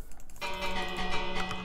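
A bell in the Minecraft video game rings with a clear, bright tone that starts abruptly and sustains with a ringing decay, with no talking.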